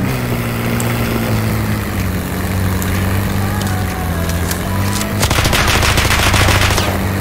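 Electric State video game gunfire: a steady vehicle engine drone runs underneath, then a loud, rapid burst of automatic fire erupts near the end.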